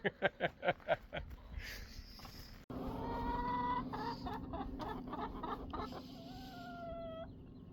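Chickens outdoors in Alaska: a run of rhythmic clucks, then a busier mix of clucking and squawking calls from several birds, fairly faint and without voices.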